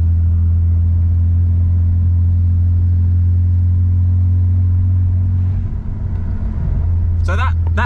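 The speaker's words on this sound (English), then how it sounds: "We are pulling up a pretty steep hill." BMW E90 with a built engine and swapped 8HP70 automatic gearbox climbing a steep hill, heard from inside the cabin as a steady, loud, low engine drone that shifts slightly partway through, with people talking over it.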